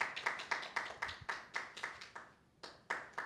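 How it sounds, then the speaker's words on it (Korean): A church congregation claps at a Korean Christian declaration ceremony, a series of sharp, evenly spaced hand claps ringing in a large room, with a brief pause before the clapping resumes. "우리 큰 박수로 축하해"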